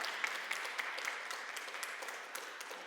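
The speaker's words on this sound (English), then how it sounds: "I'd like to give you a round of applause for your honesty." An audience at a post-screening forum applauds, light scattered clapping at moderate volume that continues steadily, a little thin and roomy.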